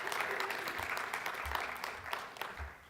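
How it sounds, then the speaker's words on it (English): Audience applause at a school ministry session as actors come out, a moderate spread of clapping from a small crowd with low murmuring beneath. "Please give them a round of applause."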